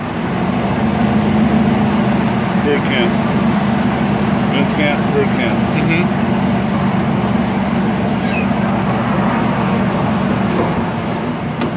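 A 30-year-old miniature train engine at the Santa Barbara zoo runs with a steady low hum and occasional squeaks, while people talk over it throughout.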